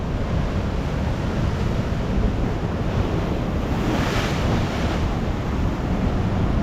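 Ocean waves surge and crash against a rock shelf along a coastal rock traverse at Dee Why to Curl Curl, a loud, continuous roar of surf with a swell building midway, heavy wind buffeting the microphone and no voices.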